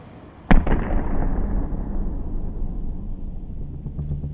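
Missiles strike F-4 Phantom aircraft with one sudden, loud explosion that rolls into a long, deep rumble and slowly fades.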